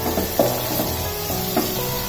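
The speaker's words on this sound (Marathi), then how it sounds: "कांदे घालून झाले, आणि आपल्याला हे छान परतून घ्यायचे," Chopped onions sautéing in a pan for a dhaba-style poppy seed sabzi, a dense steady sizzle with a few soft scraping stirs, close and loud, no talk.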